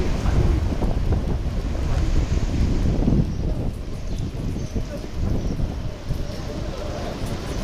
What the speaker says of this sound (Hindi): तेज हवाओं के साथ बारिश हो रही है, समंदर में तेज लहरें उठ रही हैं।